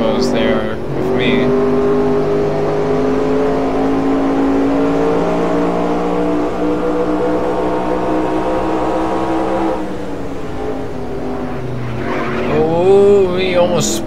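Stock car tires skid and squeal in the NR2003 racing game, a 1969 USAC stock car held at a strained, wavering pitch through a long slide under the engine drone, then a brief sharper screech near the end.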